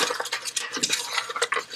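Steady scraping and clinking of a utensil stirring wild mushroom soup in an Instant Pot, close and continuous, with no talking.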